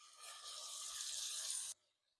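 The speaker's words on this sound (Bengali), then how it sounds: "এখানে কিছুটা পানি দিয়ে দিব।" Water pours into a pan of tofu curry in one steady stream for under two seconds, then stops abruptly.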